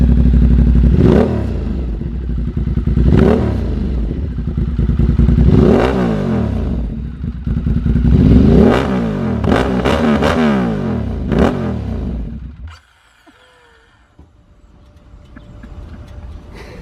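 A Ducati Monster 1200 with a Termignoni exhaust and race filter revs hard in a rhythmic series of about six sharp blips, loud and close, then cuts off abruptly to near silence.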